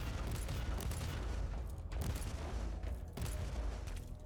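A bolt gun fires in the Warhammer 40k Inquisitor Martyr video game: dense, loud, continuous booming bursts with area-of-effect explosions, broken by two short pauses, with no voices.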